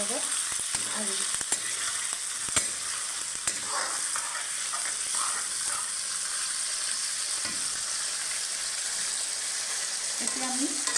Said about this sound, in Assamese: এতিয়া মাংসখিনি অলপ ফ্ৰাই হ'বলৈ দিম।